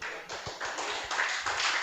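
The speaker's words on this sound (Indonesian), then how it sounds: "Beri tepuk tangan" An event audience at the 8th Maskofest workshop claps for its sponsors, a brief steady burst of hand claps filling the room without any voice over it.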